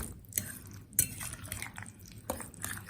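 Guacamole being mixed with salt in a bowl, a run of soft scraping stir strokes punctuated by a few sharp clinks of a utensil against the bowl, close up, with no talking.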